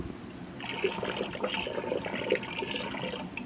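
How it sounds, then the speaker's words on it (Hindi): Water poured into a pot of measured chana dal, a continuous gurgling trickle and splash that holds steady at moderate loudness throughout. "देखिए मैं इसमें कितना पानी डाल रही हूँ।"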